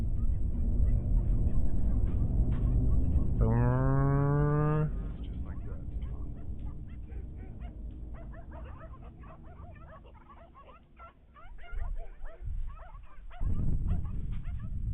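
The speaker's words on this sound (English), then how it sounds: "And all the dogs going crazy too" Several dogs bark and yelp excitedly in the distance at night, a short rising burst of howling over steady outdoor hum, followed by scattered faint barks and noise.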